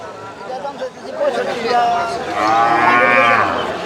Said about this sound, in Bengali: এটা হলো দেশি সার বাছুর